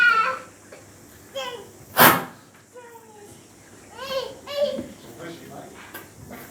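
A single sharp sneeze bursts out near the middle, loud and brief, amid scattered soft voices and babble in a quiet room.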